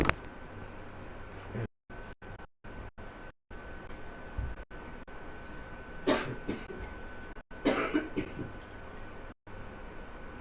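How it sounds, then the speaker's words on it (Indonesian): A man coughs repeatedly, clearing his throat over a continuous background hiss. The harsh bursts come close to the microphone in two clusters near the middle of the stretch, broken by abrupt dropouts to silence. "Saya batuk-batuk mulu"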